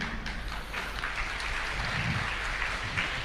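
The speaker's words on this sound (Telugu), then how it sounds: "చప్పట్లు కొట్టండి సంతోషమే" Congregation clapping during a church sermon: a dense, steady wash of applause with low rumbling room noise underneath, continuous and fairly loud, with no clear speech.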